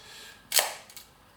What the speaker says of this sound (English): It has a cloth shutter, not a metal shutter, but a cloth shutter.